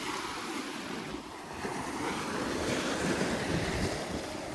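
Steady roar of ocean surf washing onto Redi Beach in Vengurla, Konkan, broad and constant, with wind buffeting the microphone throughout.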